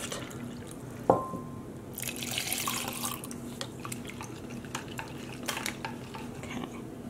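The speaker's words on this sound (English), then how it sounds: "slowly adding a little more water at a time, we will keep mixing this until all of our dye is dissolved." Yarn dye is stirred and poured with water in a container, with a sharp clink near the start followed by soft trickling, sloshing and small scraping taps nearby.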